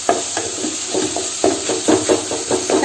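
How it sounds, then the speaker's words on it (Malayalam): Beef with tomato is sautéed in a pan, a close hissing sizzle broken by repeated scraping stirs at an irregular rhythm. "അപ്പോൾ നമുക്കിത് നല്ലതുപോലെ വഴറ്റിയെടുക്കാം"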